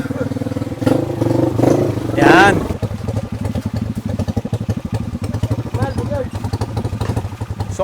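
A motorcycle engine idles and chugs nearby with a steady throbbing rhythm, while people talk over it and a few clatters sound.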